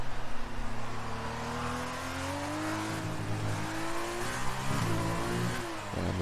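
F2 race car engine in a racing video game, set at Mexico, holds a loud sustained high-revving drone with the pitch climbing steadily, then a few quick shifts in tone near the end, with no talk over it.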